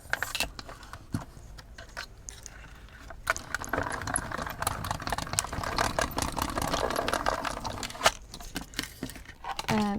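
A Gemini Midi die cutting machine feeds dies in a folder through its rollers, making quiet, dense clicking and rattling with scattered sharper ticks, close by and low in level.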